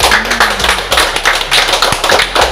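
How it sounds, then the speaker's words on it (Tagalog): Brisk, dense clapping from a crowd at a house blessing, steady and fairly loud throughout, with sharp individual claps standing out. "So, pasalubungan natin ng masigabong palakpak ng Panginoon."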